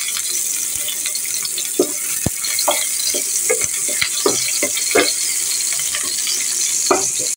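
Onions fry in hot oil in a cooking pot with a continuous loud sizzle, while a utensil repeatedly stirs and scrapes, giving sharp clinks at irregular moments.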